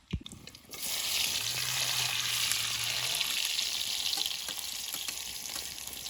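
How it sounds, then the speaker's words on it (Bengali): Sliced onion dropped into hot oil in a wok sizzles loudly and steadily after a brief clatter at the start, the frying hiss staying close and constant throughout. "আমাদের তেলটা গরম হয়ে গেছে, তখন পেঁয়াজটা দিয়ে দেবো।"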